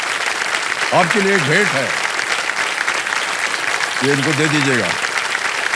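Steady audience applause on a Hindi TV quiz show, a continuous loud clatter of clapping throughout, with a host's voice speaking over it in two short bursts.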